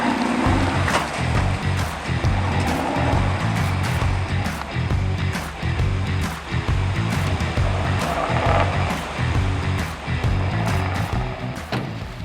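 An offroad car drives through a deep water crossing, a low engine rumble under repeated sharp knocks and splashy clatters that keep coming unevenly and fairly close.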